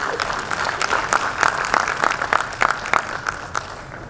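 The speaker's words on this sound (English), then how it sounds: "Can we have a round of applause, please?" An audience claps in steady applause at a corporate volunteering award ceremony, a sustained patter of many hands in a room with a few sharper individual claps standing out.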